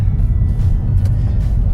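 A Honda Prelude sports car engine idles with a steady low rumble close by, fairly loud and even, with no voices.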